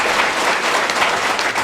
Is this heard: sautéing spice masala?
no